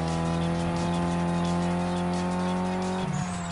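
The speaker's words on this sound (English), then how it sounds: "So we got two Volkswagen GTIs racing." Two Volkswagen GTI cars racing in Need for Speed Most Wanted (2005), with a steady droning engine hum held at high revs throughout and a sudden shift and scrub near the end.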